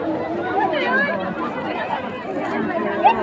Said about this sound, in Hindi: देखते हैं कितना भीड़ लग रहा है